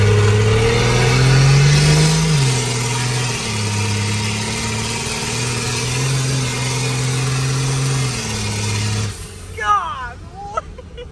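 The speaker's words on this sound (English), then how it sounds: "I think it revs out higher and it locks up a little earlier" A 12-valve Cummins diesel truck engine revs up and holds at a steady high drone for several seconds, then drops away, followed by brief talking and clatter.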